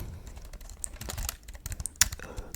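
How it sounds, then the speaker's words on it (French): Keys clack quickly on a fake Apple computer keyboard, a close, quiet run of light, irregular taps with a few sharper strikes, heard alone without any talking. "Tout d'abord, un petit clavier, un fake Apple keyboard."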